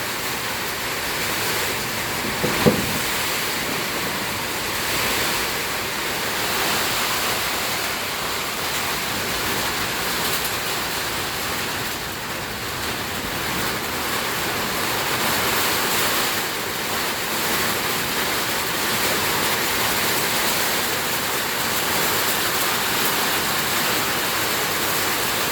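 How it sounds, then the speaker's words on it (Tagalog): Heavy typhoon rain pours down steadily on a house, a dense, loud, unbroken roar of rain and wind that holds throughout with no let-up. "Grabe ang ulan, lakas."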